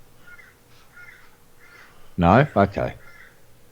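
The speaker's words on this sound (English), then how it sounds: "I hear birds." Crows caw in a faint, spaced series from a distance in a forest, then a person speaks a few words up close.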